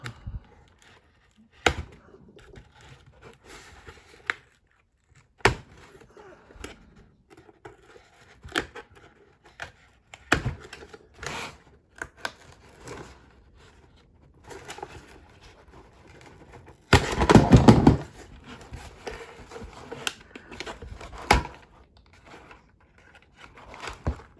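A dull X-Acto knife saws and snaps through plastic packaging straps holding a toy in its tray, giving scattered sharp clicks and cuts with quiet gaps and one longer scraping burst.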